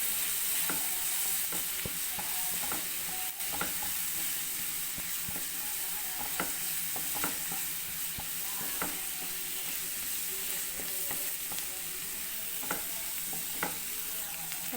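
A potato and mushroom masala sautés in a pan with spice powders and pepper, giving a loud, continuous sizzle up close, punctuated by frequent scraping stirs.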